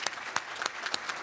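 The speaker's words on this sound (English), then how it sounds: "Please give applause for all of these" Applause for award nominees at a medical school honors convocation: a brief, fairly quiet spatter of hand claps from an audience in a hall, with a few sharper individual claps standing out over roughly a second.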